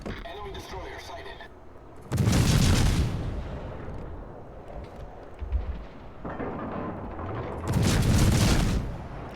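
Heavy naval gunfire from warships in World of Warships, with two big booming salvos a few seconds apart over a continuous rumbling battle background, loud and close.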